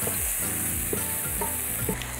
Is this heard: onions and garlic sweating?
yes